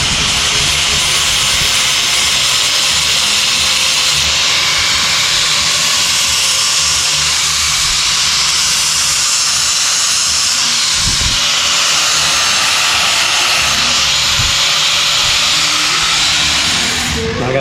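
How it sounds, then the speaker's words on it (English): A grinder bevels a metal tube edge while welding up a Beetle hardtail bike frame, giving a continuous, loud, hissing whine that holds steady for the whole stretch with no pauses, no talk. "I gotta bevel this edge."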